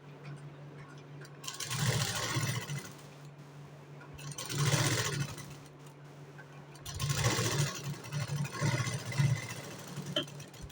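A sewing machine stitching the shoulder strap of a blouse whirs in three short bursts of rapid ticking, with quiet pauses between runs over a low background hum.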